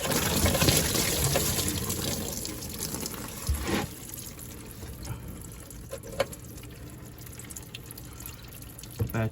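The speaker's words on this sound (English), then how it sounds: "a lot of the coolant's gonna gush out" Engine coolant pours out of a removed hose on a 2008-2011 Mercury Mariner or Ford Escape, a steady, faint splashing stream broken by occasional clicks and knocks from handling nearby.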